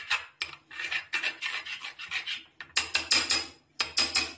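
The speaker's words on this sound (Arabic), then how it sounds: "صافي تخوضي بحال هكايا، تخوضي مزيان" A homemade face-whitening mask mixture being briskly stirred in a bowl, a close rasping scrape repeated in quick rhythmic bursts with brief pauses, no voices.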